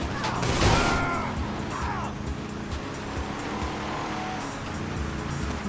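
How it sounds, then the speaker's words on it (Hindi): A motorbike in GTA 5 races at full speed over hilly terrain, its engine roaring with loud bursts of impact and tire noise early on, then a steady moving drone. "फुल स्पीड में आ रहे बाइक पे पहाड़ियों पे।"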